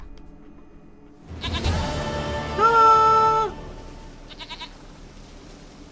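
A goat in the video game The Witcher 3 lets out one loud, drawn-out bleat over quiet game ambience. A man gives a short exclamation nearby.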